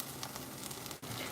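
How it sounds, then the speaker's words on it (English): Steak frying in a hotel room, giving a continuous close crackling sizzle with small pops and a brief dip near the middle, heard alone with no voices. "I'm hearing a little sizzle."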